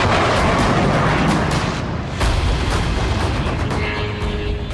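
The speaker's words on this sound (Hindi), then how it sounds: "जिसके बाद एक धमाका हुआ और इमारत के कई फ्लोर स्वाहा हो गए।" A loud, booming blast from a Ukrainian drone strike on a large building in Saratov, Russia, with a dense rumbling roar that persists and echoes across the scene.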